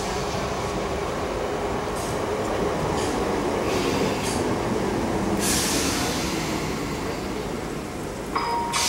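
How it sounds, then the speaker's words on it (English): A Great Eastern Railway passenger train rolls into Colchester station, a continuous loud rumble with wheel squeal and rail noise at the platform, no clear talk over it. "This might be our train coming."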